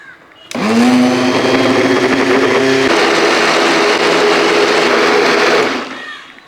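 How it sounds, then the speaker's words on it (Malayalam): A mixer grinder blends soaked rice batter with water for Kerala-style vattayappam, its motor starting abruptly into a loud, steady whirring drone that holds for several seconds before spinning down. "ഇനി നമുക്ക് ഒന്നുകൂടെ ഒന്ന് എല്ലാം കൂടെ മിക്സ് ചെയ്ത് ഒന്നും ഒന്നടി കറക്കിയെടുക്കണം"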